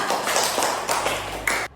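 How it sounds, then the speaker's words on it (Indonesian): A classroom full of students clapps for a recitation, dense rapid clapping that fills the space and then stops abruptly. "Beri tepuk tangan untuk Mas Angga"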